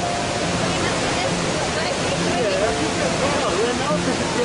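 The roaring cascades of Iguazu Falls pour on as a constant broadband rush of water, with voices talking faintly over the roar.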